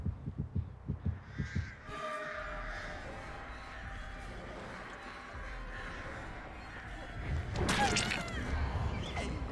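Crows caw in Dead by Daylight, with a run of rhythmic thumping pulses at the start followed by a low droning bed and a loud burst of flapping and cawing near the end.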